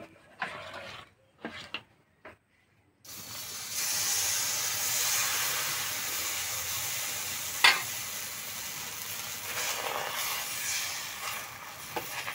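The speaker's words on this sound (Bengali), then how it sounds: "ভাজতে একদমই সময় লাগে না।" Ripe palm fruit batter for soru chakli pitha cooks in a pan. A few soft clicks and knocks come first, then a steady hissing sizzle sets in and continues, with occasional sharp ticks.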